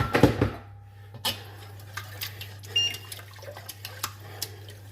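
A small amount of water is poured into a pan of thickening sauce while cooking chicken Gaston Gérard, a brief splash near the start followed by light clinks of a utensil against the pan.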